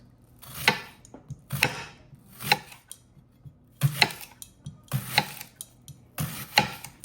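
Knife cutting through onions into rounds on a board for Jamaican fried yellowtail snapper, six or seven crisp chopping strokes at an uneven rhythm, close and alone.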